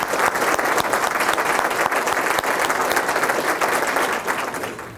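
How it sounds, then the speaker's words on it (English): Sustained applause from a standing room crowd at a chamber of commerce business gathering, honoring a woman's 20 years of service. Dense, steady clapping fills the whole stretch at an even loudness and tapers slightly at the end. "can we stand and applaud when she comes in the room?"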